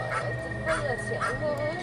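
Dogs bark at night in short bursts about half a second apart, distant and fairly faint, over a low background hum.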